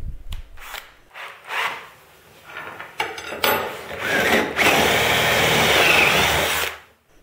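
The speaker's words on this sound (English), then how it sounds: "I'm using a step drill to make the holes a little bit larger." A power drill with a step bit enlarges holes in short biting bursts, then grinds steadily for a couple of seconds before stopping; loud and close.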